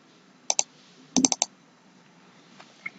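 Computer keyboard keys clicking crisply up close: a quick pair of taps, then a rapid burst of four keystrokes ending in a firmer press, followed by near silence.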